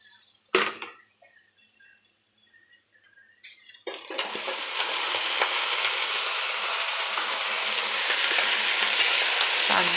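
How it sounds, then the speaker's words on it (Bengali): Water spinach (kalmi saag) tossed into hot oil with browned onions in a pan bursts into a loud, steady sizzle after a few quieter clinks and a sharp clatter, the frying hiss holding strong to the end. "তো হয়ে গেছে পেঁয়াজটা লাল, এবার আমি শাকগুলোকে দেবো।"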